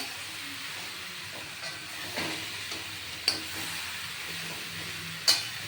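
Bottle gourd cooking in its own water in a pan is stirred, giving a soft steady sizzle and hiss with light scraping and two sharper metallic taps, quiet and close.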